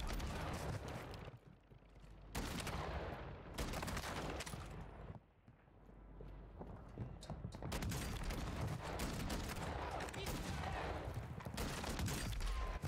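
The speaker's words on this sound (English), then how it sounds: "the broadside is one of the most strongest shotguns in the game in Season 2." Broadside shotgun firing in Call of Duty DMZ, Season 2: a rapid string of loud, heavy blasts that run together into a near-continuous roar, with brief gaps between bursts.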